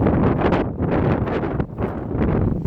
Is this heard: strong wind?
yes